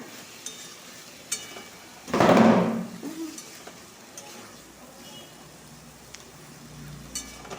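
Ridge gourd stir-fried with spices in a pan gives one short, loud burst of scraping and sizzling midway, then only faint kitchen quiet.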